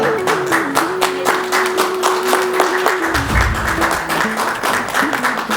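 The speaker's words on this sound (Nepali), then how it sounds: "हामी ताली बजाइदिउँ है त" A small group claps steadily for several seconds, a rhythmic patter of hands with a faint tone running underneath.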